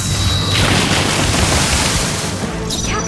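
A fire spell called Raging Fire erupts in battle in the video game Metaphor ReFantazio, a loud continuous roaring blast of flame and booming impacts that fills the whole moment with dense crackling rumble.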